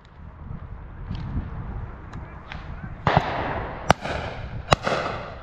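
Sharp shotgun reports crack out during a game shooting beaters day in open country, several distinct bangs at moderate distance over steady wind rumble.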